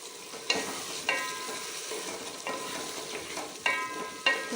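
Garam masala and coriander powder roast in a pan for a potato and fenugreek dish, making a soft sizzle. It is broken by about five sharp scraping strokes of a spoon against the metal.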